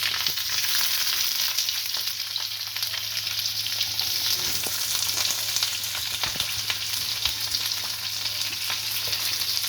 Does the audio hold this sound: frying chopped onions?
yes